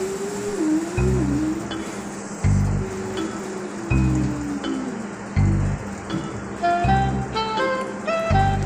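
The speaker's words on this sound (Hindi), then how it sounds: "लो फिर से बारिश शुरू हो गई।" Steady rain falling outdoors, a continuous close hiss with soft pattering that runs alone under intermittent low thuds and a few faint tones.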